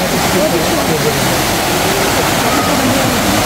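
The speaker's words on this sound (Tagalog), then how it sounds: "Maganda dito kasi nandito yung falls." Bolinao Falls waterfall roaring loudly and constantly nearby, a dense broadband rush of falling water filling the whole clip.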